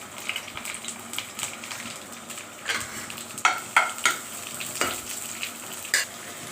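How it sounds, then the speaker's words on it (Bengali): Crushed garlic, bay leaf and chopped onion frying in oil make a steady, close sizzle, broken by sharper clattering scrapes of a spoon against the pan in the second half. "ছেঁচা রসুন দিয়ে দিলাম, তেজপাতা দিয়ে দিলাম, একটা পেঁয়াজ কুচি দিলাম"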